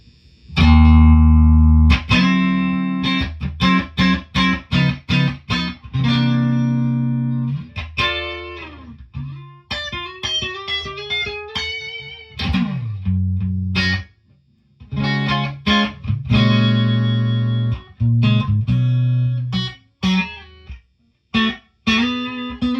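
Electric guitar with single-coil pickups played through a 1973 Fender Twin Reverb amplifier, loud and close: chords and single notes, some short and choppy and some held, with brief gaps and a sustained bend near the middle.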